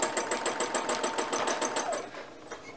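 Sewing machine stitching a triangle twist free motion quilting pattern, running in a fast steady rhythmic chatter for about two seconds, then stopping and leaving only faint soft handling sounds.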